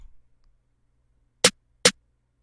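Two sharp snare drum cracks from a Trippy Snare 3 sample in quick succession, short and bright, with near silence before them.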